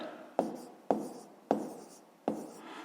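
Pen or chalk strokes writing numbers by hand during a fifth-grade maths exercise: four sharp taps at steady intervals, each trailing off into a scratch, close and quiet with no voices.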